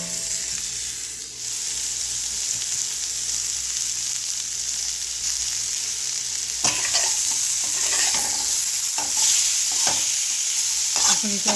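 Pointed gourd (potol) and onion fry in a pan with a steady, loud sizzle; from about halfway through, a spatula scrapes and stirs in several bursts over the constant hiss.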